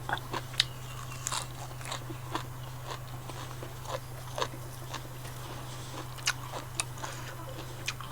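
Crisp crunchy chewing, repeated bites crackling at an irregular pace close to the ear over a steady low hum.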